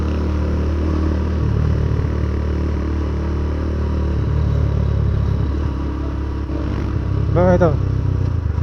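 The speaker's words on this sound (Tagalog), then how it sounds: "Pag hindi ka nag-rev match, kakadyotin ka ng motor mo." A motorcycle rumbles steadily at close range during a downshift without rev matching, its engine note shifting and jerking near the end while someone talks over it.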